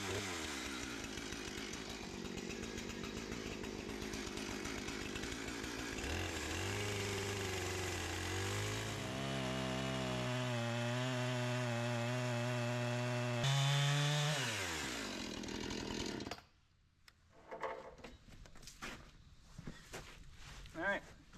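A chainsaw trims the weathered face off a reclaimed wood log, running loud and steady for about sixteen seconds with the pitch rising and falling as it bites into the cut, then shutting off and leaving faint knocks and footsteps.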